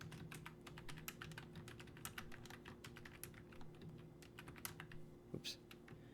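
Soft, rapid clicking of a computer keyboard being typed on, an irregular stream of light keystrokes heard close and quiet throughout, with one sharper knock near the end.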